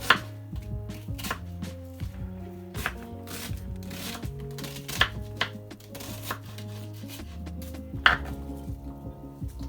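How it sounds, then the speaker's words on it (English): A knife slices through half a white onion on a cutting board in a home kitchen, giving a brisk series of sharp chopping knocks with soft background music playing underneath. "We have half a white onion. Gonna slice them up like that."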